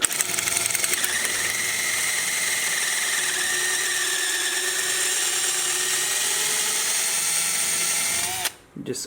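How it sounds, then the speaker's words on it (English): A small drill bit bores holes through old rubber leaf spring bushings, giving a loud, steady high-pitched whine that runs almost without a break, then cuts off abruptly near the end. "just to take a small drill bit and start drilling holes"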